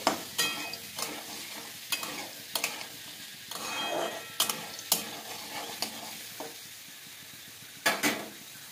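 Peanuts and soaked soya chunks are stirred in a hot pan, a close sizzle punctuated by regular sharp scrapes and knocks of a spatula against the metal, about one each second.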